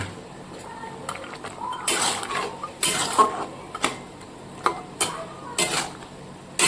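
Fried lentil fritters tipped into a pot and stirred, a run of scraping and clattering knocks of a spoon against metal, irregular and close, with brief louder bursts between quieter gaps.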